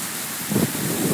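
Heavy rain pours during a Brisbane summer storm, a loud, constant broadband roar with gusty wind buffeting the microphone and a slight low rumble of thunder swelling midway.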